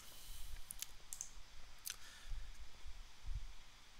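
Faint, crisp clicks of a computer mouse while working in Visual Studio 2022, a few isolated sharp taps spaced irregularly over a quiet room background with no talking.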